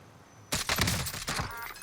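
A sudden volley of sharp DMR rifle shots in Warzone, several cracking reports fired in quick succession after a quiet moment, close and loud.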